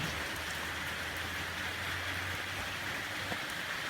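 Steady rain pours down in a dense, continuous hiss, with a low rumble underneath and no voices.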